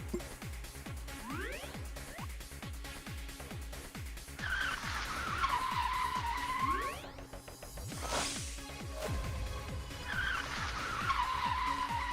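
Video game car braking hard with a heel-toe shift, long tire squeals and skids rising and falling over a rapid, rhythmic engine note, loud and close, with repeated whooshing passes.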